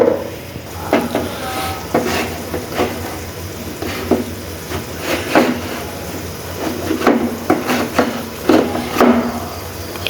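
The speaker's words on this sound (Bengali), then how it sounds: "ভালো করে নেড়ে চেড়ে নিতে হবে।" Spices such as coriander powder, bay leaf, garam masala and cinnamon stirred in a pan for chicken khichuri: repeated scraping and clinking of a spoon against the pan in an uneven rhythm, close and fairly loud, with no talking.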